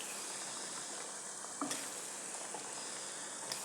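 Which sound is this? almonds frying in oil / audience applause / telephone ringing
almonds frying in oil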